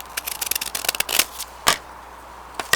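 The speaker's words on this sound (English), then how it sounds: "So I'm going to just kind of randomly cut here, trying to cut straight." Scissors cutting paper to form a right triangle, heard as a run of close, crisp snips and crackles, then a few sparser cuts with quiet pauses between.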